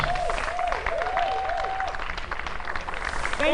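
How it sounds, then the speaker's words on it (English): An audience claps at a company anniversary event, a broad wash of applause throughout, moderately loud and steady, with a tonal whistle-like sweep over the clapping early on. "I'd like to ask you guys to give these guys a wonderful round of applause"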